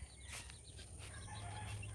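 Chickens cluck faintly in a wooden barn-style coop a father built for them, a few short calls over a quiet steady background hum.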